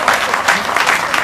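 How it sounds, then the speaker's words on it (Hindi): Audience applause at a Hindi poets' gathering, a short burst of lively clapping from a crowd with a voice mixed in. "जोरदार तालियां।"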